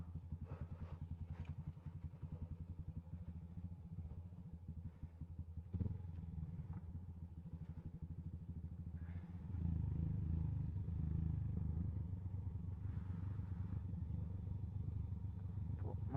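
A Yamaha FZ S motorcycle engine rumbles steadily on a rough off-road track toward a waterfall, running low and even with a rise in loudness partway through and some rattling clatter.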